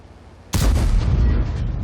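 A tank's main gun firing in World of Tanks, one sudden heavy blast after a quiet moment, loud and close, trailing into a rumbling decay.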